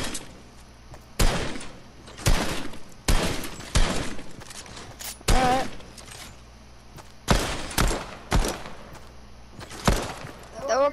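Gunfire during boot camp shooting practice: a series of loud, sharp individual shots, some in quick pairs, separated by short quiet gaps over a low background hum.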